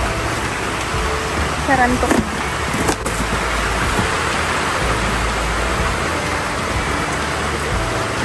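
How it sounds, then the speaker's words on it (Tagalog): Heavy rain pours steadily as a dense, loud roar, with a brief voice speaking over it near the start. "Sobrang ulan po."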